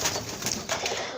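Domestic pigeons kept for breeding, with freshly hatched squabs, coo steadily at close range in a soft, continuous burbling.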